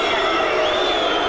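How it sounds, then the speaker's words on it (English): A boxing crowd boos a disqualification, a dense, loud, continuous roar of many voices filling the arena with no pause. "Programs, rubbish being thrown into the ring, the crowd booing."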